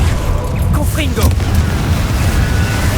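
A Confringo blasting spell goes off in a Harry Potter video game, a loud booming explosion with a rumbling low tail under dense battle noise, while a voice talks over it.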